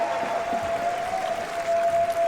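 Arena crowd at the Paris Major Counter-Strike match between FaZe and Heroic on Mirage, a sustained roar of applause and cheering with a steady tonal whistle-like hum running through it.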